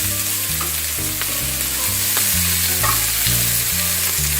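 Chicken and shrimp stir-fry sizzles loudly in a hot pan, a dense steady frying hiss with faint clinks of stirring, close and without talk.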